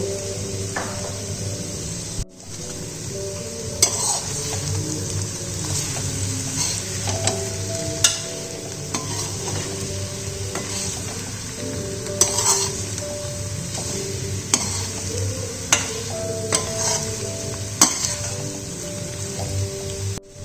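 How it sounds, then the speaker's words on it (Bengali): Coriander leaves stirred into vegetable chorchori in a pan, a steady sizzle under repeated scraping and clinking of a utensil against the metal, with sharp taps scattered every second or two. "এবার আমি ধনেপাতাটা এর মধ্যে মিশিয়ে দিচ্ছি"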